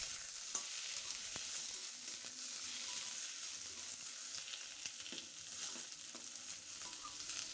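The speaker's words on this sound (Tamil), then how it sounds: "ஒரு கடாயில் எண்ணெய் ஊற்றிட்டு வெங்காயம், தக்காளி, இஞ்சி பூண்டு இதெல்லாம் போட்டு நல்லா வதக்கிக்கலாங்க" Onion, tomato, ginger and garlic sauté in oil in a kadai for a mushroom masala gravy, giving a soft, continuous sizzle and crackle with occasional stirring scrapes, quiet and close with no talking.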